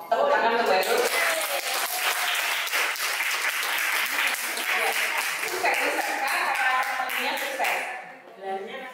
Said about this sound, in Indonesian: Tepuk tangan untuk Mbak Nur